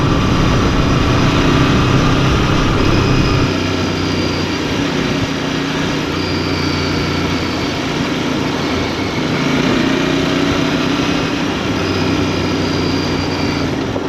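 A Royal Enfield motorcycle engine hums steadily and continuously, loud and close, with a slight shift in pitch partway through as it keeps running.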